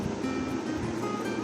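Boiled beef and garlic sizzle in a karahi, a steady close frying hiss with soft crackle throughout.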